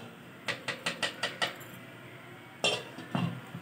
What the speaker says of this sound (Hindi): अब 15 मिनट के लिए मैं फिर ढक के रखूँगी इसको।